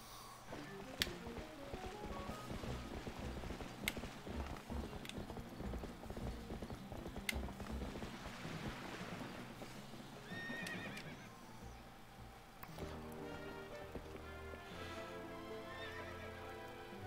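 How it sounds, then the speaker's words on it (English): Horse hooves clip-clop steadily, followed by a loud whinny and more hoofbeats, all from the video game The Legend of Zelda: Twilight Princess HD, with a game soundtrack underneath and no talking. "Oh, look at the horse."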